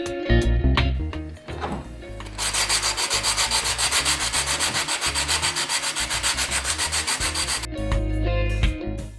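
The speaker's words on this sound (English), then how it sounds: "I used a 220 grit sandpaper and smoothed down any sharp or rough edges" Rhythmic back-and-forth scrubbing of 220 grit sandpaper over cast concrete Halloween decor, steady close strokes for several seconds, with a few knocks and handling clatter before and after.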